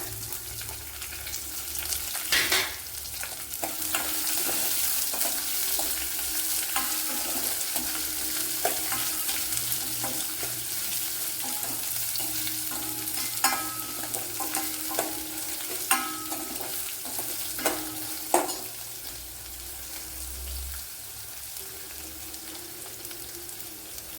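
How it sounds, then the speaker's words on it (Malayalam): Finely chopped small onion frying in a pan for Kerala-style pineapple pulissery, with a continuous sizzle and frequent scraping stirs and clinks of a utensil throughout. "ഒരു ചെറിയൊരു സവാളയാണ്, നൈസായിട്ട് അരിഞ്ഞു വെച്ച് അത് ഇട്ട് കൊടുക്കുക."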